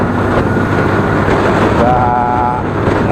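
Yamaha All New Aerox 155 scooter engine pulling uphill under open throttle, a steady low drone with a faint rising whine partway through, heard from the rider's position with constant road and wind noise.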